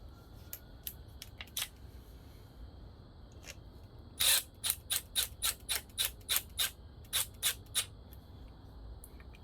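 Screws are walked in while points and condenser are replaced on a 1974 KE10, giving a run of small, close, dry clicks. Scattered single ticks come first, then a steady rhythmic series follows at low volume.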